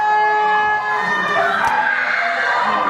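An air horn blares at a live UK wrestling show in an arena, one sustained, loud, steady tonal blast ringing over the crowd's background noise.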